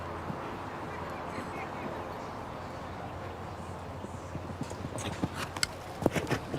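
Horse hooves clip-clop on turf at an FEI Jumping Nations Cup show-jumping event at Hickstead, starting faint under a steady background murmur and building to sharper, louder thuds toward the end.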